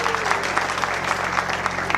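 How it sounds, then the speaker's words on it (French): An audience at a Congolese academic graduation ceremony at the ISDR in Bukavu breaks into steady applause, a brisk, even clatter of many hands with a faint steady hum beneath. "Applaudissez pour notre école."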